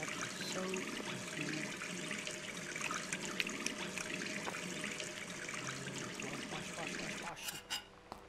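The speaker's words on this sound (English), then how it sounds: "you can turn the frickin' faucet on. Wash your hands." Water runs steadily from a faucet in the video game Gone Home, a continuous trickling stream with some rattling texture under game background sounds, ending with a few sharp clicks near the end.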